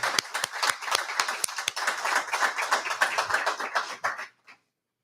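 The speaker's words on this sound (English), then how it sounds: "let's give you all a hand" Audience members at a union member convention clap together, a moderately sized crowd producing brisk, distinct handclaps for about four seconds before stopping abruptly.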